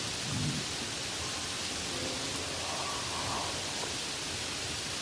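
Heavy rain drumming steadily on the roof of a van parked on Iceland's Ring Road during a storm, a dense, unbroken hiss with low rumbling underneath and no breaks.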